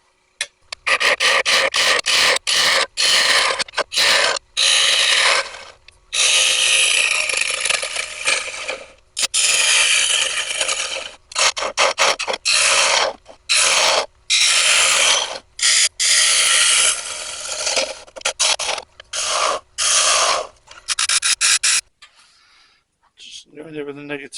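Wooden bowl turned from a branch being hollowed on a lathe, loud gritty scraping and chattering cuts in repeated bursts with brief pauses, stopping near the end.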